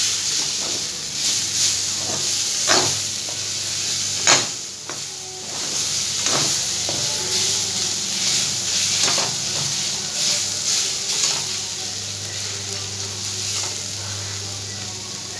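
Chopped kundri (ivy gourd) bhunjia frying in a pan, a steady hiss and sizzle with occasional scraping stir clicks, close and continuous, and faint background voices now and then.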